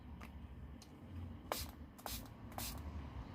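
Several short hissing bursts from a small pump spray bottle filled with horse care spray, three main sprays close together over a faint background.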